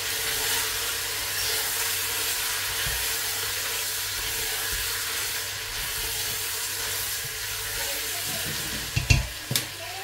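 Sauce for braised pork cheeks stirred in a frying pan, a steady sizzling hiss throughout with soft scraping, and a couple of sharper utensil knocks near the end.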